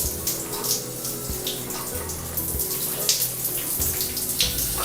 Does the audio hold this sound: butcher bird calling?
no